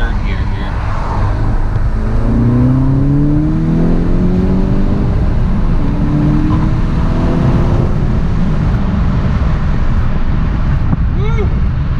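Volkswagen GTI with a Stage 1 tune accelerating hard through second into third gear, a loud close engine drone with rising pitch sweeps, a brief drop at the shift, then climbing again over steady road roar.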